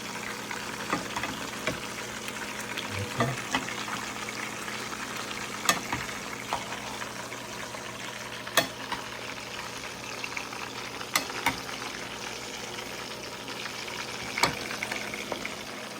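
Fish frying in hot oil in a large frying pan, Jamaican escovitch style: a steady, close crackling sizzle throughout, punctuated by a few sharper pops and spits, with no talking.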